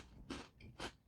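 Two crisp crunching bites on freeze-dried pear pieces from a decades-old Gulf War-era military MRE, loud and close, separated by a short pause, with no talking.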